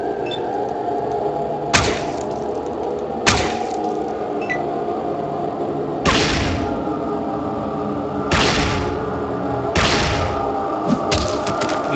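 Shots ring out in combat in the Fallout video game, roughly five sharp bursts spaced a second or two apart over a constant low rumble, with no one talking.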